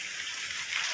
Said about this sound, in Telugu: వర్షం అయితే చాలా బీభత్సంగా గాలి ఎక్కువగా ఉరుములతోటి చాలా వర్షం ఎక్కువ పడుతూ ఉందన్నమాట